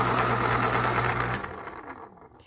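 A Jarlink electric pencil sharpener whirs steadily as it grinds a colored pencil to a point, a close, loud motor buzz that cuts off after about a second and a half and leaves a faint tail.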